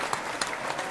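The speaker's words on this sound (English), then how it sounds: "There's claps, they're there." A studio audience welcomes a guest onto a talk show with short, moderately loud applause made of dense overlapping claps and a few sharper claps standing out.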